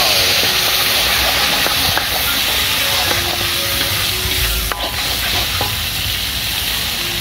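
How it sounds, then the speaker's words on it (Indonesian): A ground spice paste is stir-fried in a pan for a restaurant-style Padang-sauce crab and clam dish. It gives a continuous bright sizzle, with scattered scrapes and clinks of a spatula stirring against the pan. "pertama-tama kita oseng bumbu yang udah dihaluskan ya sobat"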